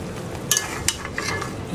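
Garlic being stirred in a cooking pan, a few brief scraping strokes of a spatula against the metal over a soft background sizzle, close and short, with no voices.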